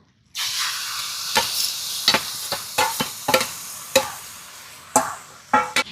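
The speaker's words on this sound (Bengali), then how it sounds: "ওই একই কড়াইয়ে আমি যে আমটাকে গ্রেট করে রেখেছিলাম সেটা দিয়ে দেব" A sudden loud sizzle as grated raw mango hits hot oil, then continuous frying hiss with repeated sharp scrapes of a spatula stirring in a wok.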